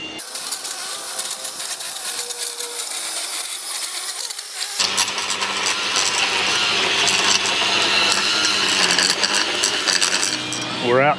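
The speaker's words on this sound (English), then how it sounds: "He's got the Milwaukee blower. We're trimming shrubs. He's kind of blowing the stuff out." Milwaukee battery blower and edger running outdoors while shrubs are trimmed on a rental property, a steady loud motor whine that rises and thickens midway, with faint voices under it.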